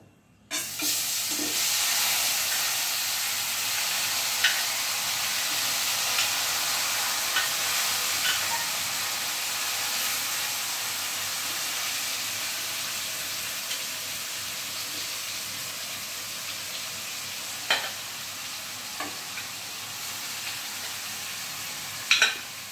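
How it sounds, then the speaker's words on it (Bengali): Spice-marinated fish frying in a wok makes a continuous loud sizzle and hiss, with occasional clinks and scrapes of stirring scattered throughout and no talk. "পুরো মশলা মাখা মাছটা আমি কড়াইতে দিয়ে দিয়েছি"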